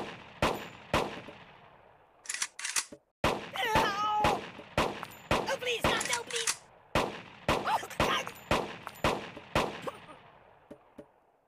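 Gunfire at a shooting range in the mobile game Kick the Buddy cracks out as sharp, loud shots, some single and some in quick bursts, with a cartoonish voice briefly in the middle.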